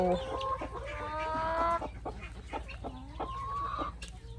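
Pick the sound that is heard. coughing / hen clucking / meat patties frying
hen clucking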